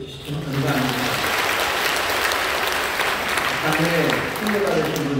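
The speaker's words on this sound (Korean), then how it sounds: "예, 박수해 주시죠." A church congregation claps in sustained, dense applause that stays loud for several seconds, with a voice briefly audible at the start and end.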